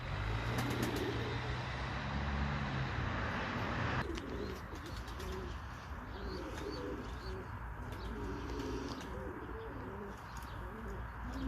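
Pigeons coo in soft, repeated low calls over steady outdoor background noise, with faint chirps mixed in.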